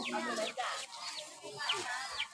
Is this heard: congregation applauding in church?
no